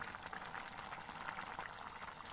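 Pot of Vietnamese fish sauce stew with braised mud carp (mắm cá linh kho), pork, and chili simmering on the stove, giving a steady soft bubbling hiss throughout, close and moderately quiet, with no talking.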